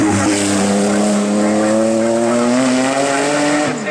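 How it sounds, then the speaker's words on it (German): A Porsche 935 race car at a hill climb race, its engine loud and close, revving steadily upward through a gear with a brief shift near the end and some tire noise. "Für Herbert Stolz und den Porsche 935 GT4."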